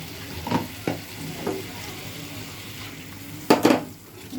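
Mustard and poppy-seed paste stirred into simmering tomato gravy for a parshe fish curry, with soft scraping spoon strokes and bubbling, a few louder clanks of utensil on the pot near the end.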